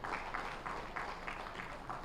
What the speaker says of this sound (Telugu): ఒకసారి గట్టి క్లాప్స్ అండి చారి గారికి.